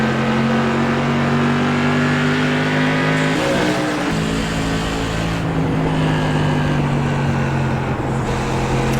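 SK Modified race cars competing at New Smyrna in the iRacing simulator, a continuous loud engine drone with shifting pitch as cars accelerate and lift, steady throughout with no voices.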